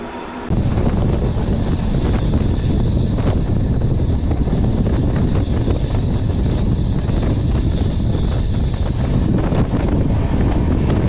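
The Netravati Express passenger train rumbles past at speed, with a steady high whine and clattering wheels over a constant roar of wind.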